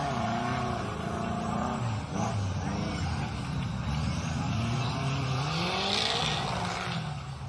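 An off-road 4x4 strains up a steep sandy slope at an off-road event, its engine roaring and revving hard without a break, loud and close, with spinning tires churning.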